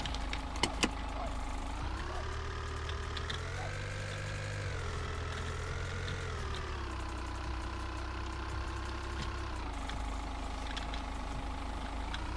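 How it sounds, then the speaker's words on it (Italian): A vehicle engine in a winter resort simulator video game restarts and settles into a steady mid-pitched running drone. The engine revs rise and fall gently and sound close, with a couple of faint clicks near the start. "Allora, riaccendiamo il motore."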